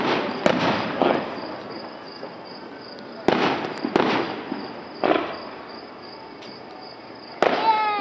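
Grand finale fireworks display with several loud booming bursts spaced a few seconds apart, crackling tails after each, over steady insect chirping outdoors.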